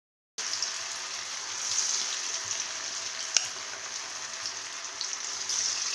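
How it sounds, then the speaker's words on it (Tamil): Mutton sizzles steadily in hot oil for mutton chukka, a dense, even hiss that holds close and constant throughout with one brief sharp crackle midway. "இது போட்டு பொரிச்சு"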